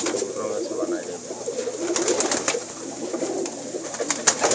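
Pigeons in a loft coo in low, throaty bursts amid a steady background of bird noise, with scattered sharper sounds and a voice faintly present at times.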